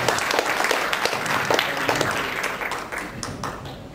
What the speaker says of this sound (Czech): tak ještě jednou potlesk od Zdeňka